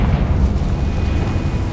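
A Confringo blasting spell in the Hogwarts Legacy video game, a loud, dense rumbling explosion that fills the short moment with a heavy low roar and no voices.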